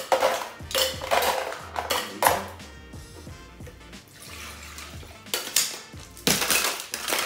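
Ice cubes tumble into a large metal cocktail shaker tin while a gin and cognac drink is built, a burst of clattering, clinking drops that comes in a few uneven waves, close and fairly loud, with no talking.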